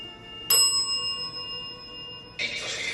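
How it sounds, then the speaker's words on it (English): A dead bell, a ghost-hunting trigger bell, strikes once with a bright ringing tone that sustains and slowly fades, then a second brief burst of sound follows near the end; no talk over it. "Can you ring the bell twice if you liked this bell?"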